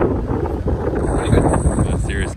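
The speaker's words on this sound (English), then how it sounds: "Serious gusts of wind come through and bend some poles on the gazebo" Strong storm wind gusts buffet a camp gazebo during a New Zealand hunting trip, a loud continuous roar of wind noise across the microphone, with voices faintly mixed in.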